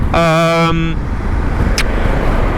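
A 2021 Honda Africa Twin Adventure Sports motorcycle engine rumbles steadily throughout, while a sustained horn-like tone sounds for under a second near the start.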